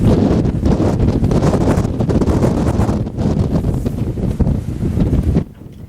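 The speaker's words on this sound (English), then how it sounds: "That was a one hell of a gust." Storm wind gusts hard over a boat anchored off Hawaii, a loud, steady roar of buffeting air that suddenly drops away near the end.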